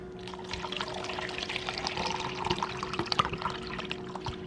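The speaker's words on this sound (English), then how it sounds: "now we're just gonna pour our coconut water" Coconut water pours steadily from a container into a vessel in a kitchen, a continuous close splashing trickle lasting several seconds with no talking.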